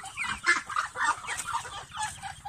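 A chicken clucks repeatedly and fairly close in short bursty calls, with no talk over it.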